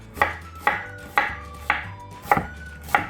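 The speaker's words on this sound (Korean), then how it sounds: "양파는 제가 이제 믹서기다 갈 거거든요. 그냥 갈기 편하시게 썰어 주시면 돼요." A kitchen knife chops onion on a cutting board for blending into a kimchi seasoning, six crisp, evenly spaced chops heard up close, with no talking.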